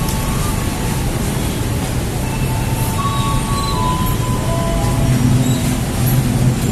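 Commuter train at a busy Jabodetabek station, a continuous rumbling hum with faint metallic squeals and clinks drifting through, steady and fairly loud throughout with no talk.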